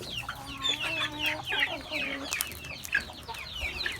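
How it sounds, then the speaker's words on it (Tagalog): Several chickens cluck and squawk close by, overlapping in a busy, uneven chatter with no other voices in the clip. "Ayan si Tandang, ang pinakamaliking manok dito."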